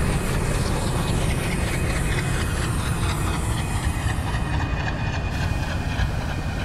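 A WDM3D-hauled Duronto Express running in Train Simulator, a loud, dense, unbroken rumble of wheels and carriages with faint rhythmic clatter and a thin high whine over it, steady and close throughout.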